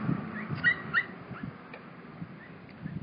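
A dog whimpers in short, high whines, some close together near the start and softer ones after, at a homeless encampment with faint background noise.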